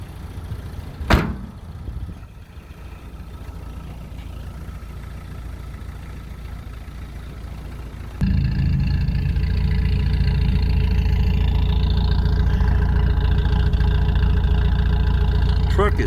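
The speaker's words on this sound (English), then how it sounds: "It's not warmed up yet, so it'll idle even better." Cold Toyota automatic pickup truck with tow package idling steadily, a loud low-pitched engine rumble that grows fuller after a thump partway through, with no talk over it.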